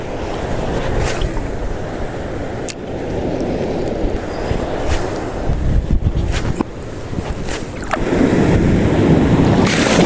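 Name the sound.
strong sea waves crashing on shore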